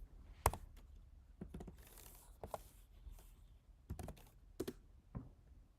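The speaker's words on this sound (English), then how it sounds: "Sound of the keyboard." Rapid, irregular keystrokes on a computer keyboard come in short bursts with brief pauses, crisp and close against a quiet room.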